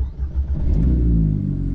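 A car with a 1.8-litre turbo engine starts and revs up, a loud, close rumbling idle rising into a sustained rev for under two seconds with no talk.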